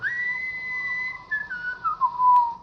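A person whistles a wavering melodic tune, clear and close, the pitch gliding and stepping downward, with soft background noise and a brief click near the end.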